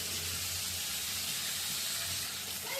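Fish frying in a pan over raised heat, a steady close sizzle with soft watery crackle that carries on alone without pause.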